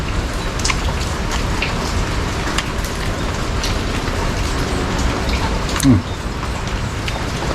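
Rain falls steadily in an even, continuous hiss of drops, with one brief thump near the end.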